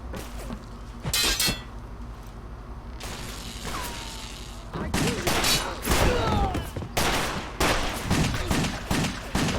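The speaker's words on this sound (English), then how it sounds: "Get back to the shooting now." Video game Wet plays rapid bursts of gunfire, with sharp shots and shattering impacts that grow into a dense, loud fusillade over game sounds.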